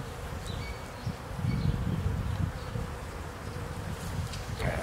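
Bees buzzing steadily and close during a beehive inspection, a continuous droning swarm hum with slightly rising intensity and no talk.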